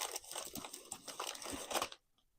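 A 000-size envelope crinkles and rustles close by as it is handled, a steady papery crumpling that stops abruptly.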